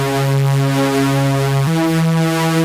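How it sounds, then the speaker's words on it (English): A big, gritty synthesizer tone sustains loudly, thick with buzzing harmonics, and steps down to a new pitch partway through before droning on. "So the first one is like this big gritty synth thing."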